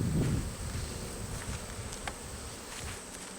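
Steady honeybee buzzing at a hive's bottom brood box, dense and continuous, close by, with a soft low rumble and a few faint clicks throughout.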